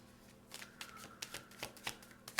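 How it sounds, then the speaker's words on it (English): Tarot cards being shuffled by hand in a series of soft, papery riffles and flicks, about a dozen brisk bursts in a quiet room with no talk. "I'm going to shuffle a bit more. The cards are very feisty."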